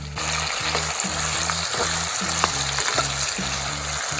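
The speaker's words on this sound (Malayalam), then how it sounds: "ഇതുപോലെ നമുക്ക് ആ 2 സൈഡും കറക്റ്റായിട്ടൊന്ന് മൂത്ത് വന്നവരെ ഒന്ന് വറുത്ത് എടുക്കാം" Loud, continuous sizzling of pork chops frying in a pan with curry leaves, with a steady rhythmic pulsing underneath and occasional crackles and pops.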